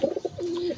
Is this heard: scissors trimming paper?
no